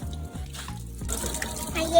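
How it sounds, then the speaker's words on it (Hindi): Water running over an air conditioner's mesh filter as it is washed, a steady tap-like splash and trickle, with someone speaking over it. "इसके अंदर जो जाली थी उसको हम वॉश करने लगे हैं।"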